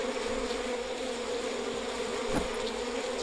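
Large swarming bees drone in a steady, dense buzz in the video game We Happy Few, moderately loud and unbroken, with no talking.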